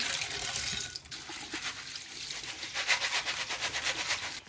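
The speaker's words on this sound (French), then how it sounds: "Je peux rincer les haricots blancs." Canned white beans are rinsed under running tap water, producing a steady close splashing hiss that fluctuates in strength for several seconds, with no talking.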